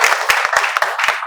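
A classroom of spoken English students clapping in welcome, a loud, close burst of quick, irregular handclaps from a small group that carries on for over a second.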